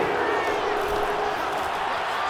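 A stadium crowd in Madden NFL 22 roars steadily ahead of a big third down, forming a broad, constant wash of cheering with faint clapping, while a commentator talks over it.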